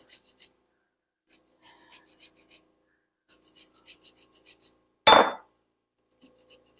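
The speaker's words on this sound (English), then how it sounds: "So we're going to zest up these limes." Key limes rubbed over a zester in short bursts of dry, rhythmic rasping, close and fairly loud, with a single sharper scrape partway through and pauses of silence between strokes.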